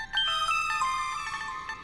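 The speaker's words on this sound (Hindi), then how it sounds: "फोन बज रहा।" A phone ringtone plays a bright electronic melody, loud and close, with steady repeating notes and no talking.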